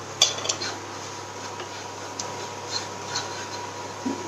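A spoon scrapes and taps around a bowl while chili and turmeric are stirred together for a smoked pork dish, giving light, irregular clinks and scrapes at close range over a quiet background hum.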